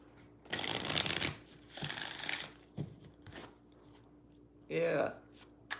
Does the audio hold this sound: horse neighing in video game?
no